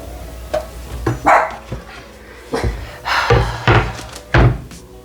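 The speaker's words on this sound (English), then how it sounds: "I apologize for the dog." A dog barks loudly and repeatedly nearby in sharp, irregular bursts, with a few thuds mixed in.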